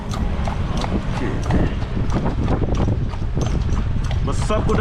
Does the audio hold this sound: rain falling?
no